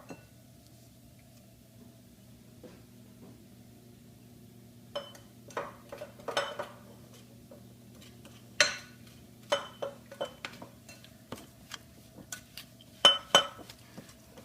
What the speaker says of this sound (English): kind of smash it with the back of your spoon, it tends to get all the butter squished and the egg mixed in and everything.